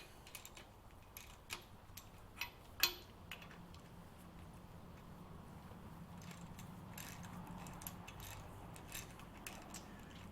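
Socket wrench ratcheting as 9/16 bolts are run up during reassembly of a 1948 Farmall Cub tractor: a run of faint, sharp clicks and taps, a few louder near clanks, over a steady low shop hum.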